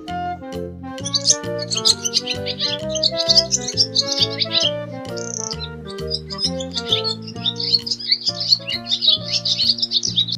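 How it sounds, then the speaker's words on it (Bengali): Bright bird chirps and tweets flutter repeatedly over a continuous melodic musical background. "ঘুঘু পাখি ডাকছে গাছে।"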